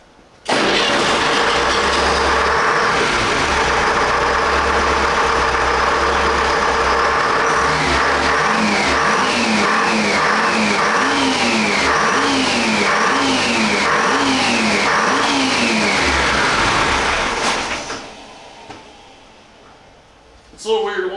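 A 212 cubic inch 453 engine on a dyno roars loudly and continuously, revving up and down in repeated rising and falling sweeps, then suddenly cuts off near the end, leaving near silence with faint voices.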